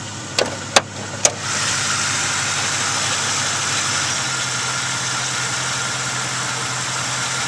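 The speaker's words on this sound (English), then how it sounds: "it idles very nice" A 1992 Lincoln Town Car engine idles smoothly and quietly at a steady, even hum after three sharp clicks at the start.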